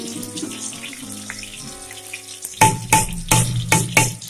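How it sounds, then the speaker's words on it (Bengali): Crushed garlic dropped into hot oil in a wok for tempering taro-leaf greens, a loud burst of sizzling that rises sharply partway through with repeated surges, after quieter kitchen sounds. "কড়াইয়ে রসুন থেঁতো দিয়ে দিলাম"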